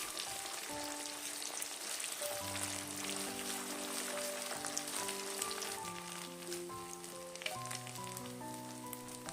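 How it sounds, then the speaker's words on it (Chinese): Beaten eggs stir-fry in hot cooking oil in a heated pan, pushed around quickly with a spatula. A loud, steady, close sizzle runs throughout, with faint background music underneath. "放入搅散的鸡蛋液。 用铲子快速的炒散，炒成鸡蛋碎。"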